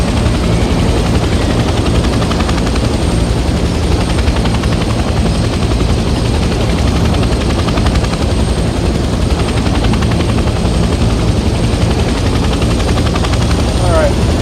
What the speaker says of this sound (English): Land the helicopter on a helipad and turn the engine off.